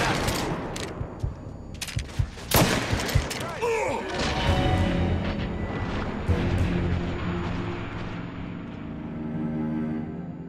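Bursts of gunfire in the Mafia 3 video game, several sharp shots and a rapid fusillade early on, followed by a rumbling, echoing tail and lingering game noise.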